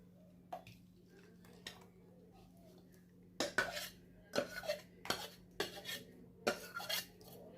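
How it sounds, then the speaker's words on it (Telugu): Ground rice batter is scraped and spooned from a grinder into a bowl, with a run of sharp metallic clinks and scrapes that grows busier and louder in the second half. "ఇప్పుడు ఇది ఒక గిన్నెలోకి తీసుకోవాలి"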